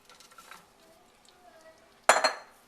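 Onions, carrots and broccoli are stirred in a soup pot: a utensil clinks against the pot in a short, sharp burst near the end, after a faint, quiet stretch.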